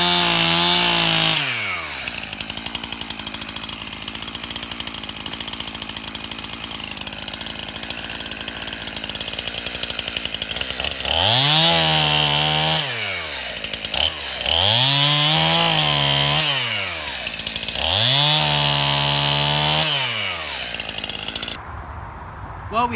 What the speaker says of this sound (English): we had some fun with both chainsaws out here today